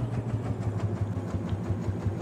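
Tractor engine idling in Farming Simulator 22, a steady low rhythmic chug with regular pulses, moderately loud and alone with no talk.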